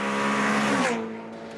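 Ferrari California engine under hard driving, loud and close, a strong harmonic growl that rises in pitch, then eases off as the revs fall away near the end, with a trace of tyre noise and no talk.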